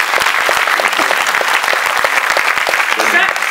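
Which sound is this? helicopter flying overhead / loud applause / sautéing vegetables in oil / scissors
loud applause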